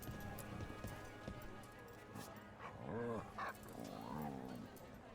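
A dog in the video game Dragon Age: The Veilguard gives a few short whimpering yips and barks amid game ambience, fairly faint and mixed with background sound.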